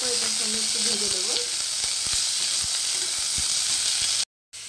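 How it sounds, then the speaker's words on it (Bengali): Green beans frying in oil alongside potato give a continuous, close sizzle with scattered light taps. A brief tonal squeal sounds near the start, and the sound cuts out in a short gap near the end. "সেই বিনসগুলোকে দিয়ে বিনসগুলোকে এটার সঙ্গে একটু ভেজে দেবো"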